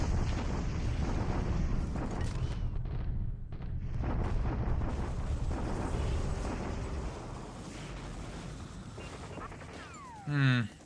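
A bombardment in the War in the Pacific strategy game: continuous deep rumbling blasts roll on for several seconds, thinning out before a short closing burst.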